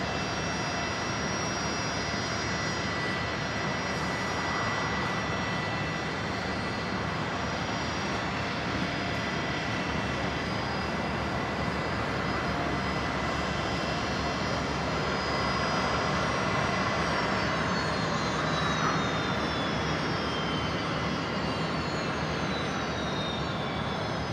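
A Learjet 60 business jet arriving from Newcastle lands on runway 01 right at Brisbane Airport, its steady jet roar filling the scene continuously and loudly throughout, with a rising whine near the end.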